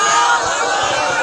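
At an Islamic religious gathering, a large crowd shouts back in unison in answer to a Takbir chant. It is a loud, brief, roaring wall of voices.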